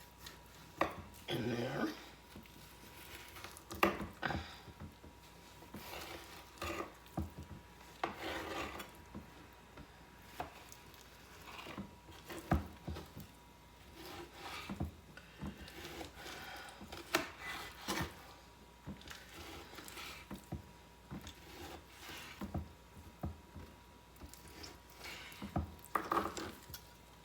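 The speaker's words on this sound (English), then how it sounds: "I'm going to cut up some vegetables. I'm going to put some potatoes and carrots and onions" A knife chops potatoes, carrots and onions for beef stew, giving irregular sharp clicks and thuds against a board. The strokes recur throughout, with a few quiet spoken words.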